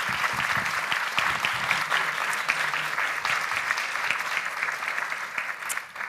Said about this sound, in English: I want to make sure we give them a huge round of applause for this incredible work.